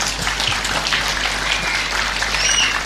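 An audience claps steadily for the speaker Buya Rosi at an Islamic religious lecture, a soft continuous patter of applause with a few faint chirps over it.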